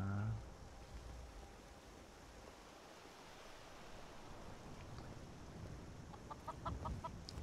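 Chicken in the video game Skyrim, a few short clucks near the start and a quicker run of clucks toward the end over a faint ambient wash.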